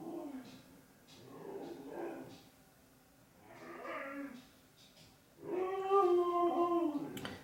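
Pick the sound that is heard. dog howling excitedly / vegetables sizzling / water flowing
dog howling excitedly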